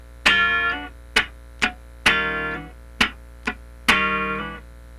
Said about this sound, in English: That's the basic slide.